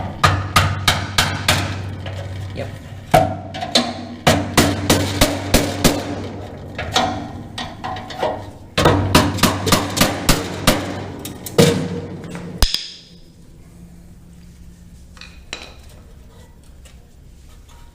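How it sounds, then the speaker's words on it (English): Hammer blows on a 1969 Dodge Charger K-member ring out in loud, close, rapid bursts of metallic strikes with brief pauses. The hammering stops abruptly, leaving near-quiet, and a voice says a single word. "I may need to get a hammer."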